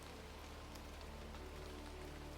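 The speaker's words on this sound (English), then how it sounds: "a soft rain begins to fall, pattering lightly on the leaves and the ground below." Soft, steady rain pattering on forest leaves and the ground below, an even, continuous hiss with small scattered drops throughout and no voices.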